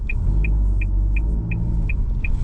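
A car rolls through residential neighborhood streets in Yonkers, New York, near a road test site, with a steady low engine rumble and road hum heard from inside, plus a regular high ticking like a turn signal.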